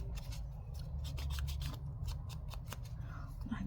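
Scissors snip through paper in a quick run of close, crisp cuts, made while crafting removable bookmarks with double pockets; a steady low hum sits underneath.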